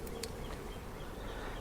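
Honey bees buzz steadily in a hive box during a Demaree split, a dense continuous drone close by with no pauses.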